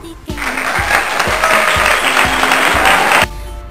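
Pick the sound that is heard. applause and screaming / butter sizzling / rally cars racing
applause and screaming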